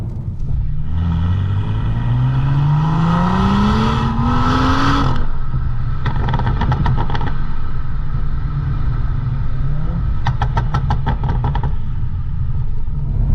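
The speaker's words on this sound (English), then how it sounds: "the valves on the exhaust open up, and it does start crackling and popping at you" A BMW 435i M Sport Convertible (F33) with an N55 engine revs up loudly as its exhaust valves open, then bursts of sharp exhaust crackles and pops ring out in rapid clusters over a steady low rumble.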